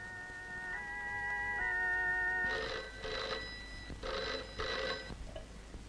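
A telephone rings in an old Malayalam film scene, faint and recorded at a distance: a soft tone at first, then two distinct double-burst rings in a bell-like pattern with no talk.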